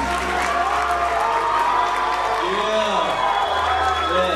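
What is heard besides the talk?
audience applause and screams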